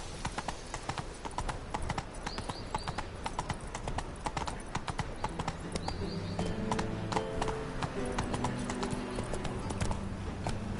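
Roach, the horse in The Witcher 3, walks with a steady, fairly quiet clip-clop of hooves, with faint bird chirps in the background.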